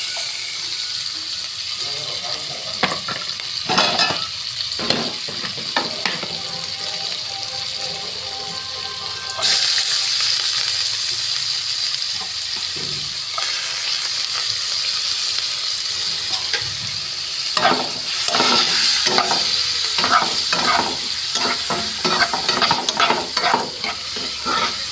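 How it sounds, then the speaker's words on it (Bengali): Chopped onions frying in butter and refined oil in a kadai, a continuous close sizzle with repeated scraping stirs of a spatula throughout, no speech. "কড়াই বসিয়ে কড়াইতে একটু বাটার, একটু রিফাইন অয়েল দিয়েছি। দেওয়ার পর এবার একটু পেঁয়াজ কুচিটা দিয়ে দেব।"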